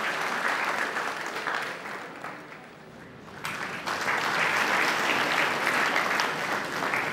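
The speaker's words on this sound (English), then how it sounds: "So, big round of applause is required." A large audience of staff and first-year engineering students claps at an inaugural college function, loud and sustained, dipping briefly before a second full burst of applause.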